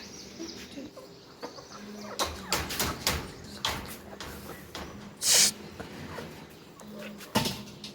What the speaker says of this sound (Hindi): मैंने मुर्गियों को जो बाहर निकाल दिया